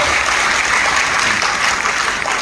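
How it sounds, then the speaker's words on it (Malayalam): An audience at a business team event claps loudly and continuously, a dense, close burst of applause filling the whole moment without any speech over it. "ഒരിക്കലും കൂടി ശക്തമായ കൈയടി താഴെ കൊടുക്കാം"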